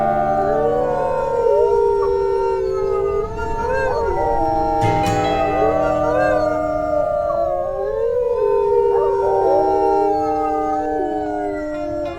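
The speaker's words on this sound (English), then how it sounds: "Amanita set her pack up to chase the herd straight towards her pups, and howled to spook the herd into running." Several wolves in the game WolfQuest howl together to spook an elk herd into running. Their long, overlapping, wavering howls rise and fall in a loud, continuous chorus, with a brief yip partway through and no talking.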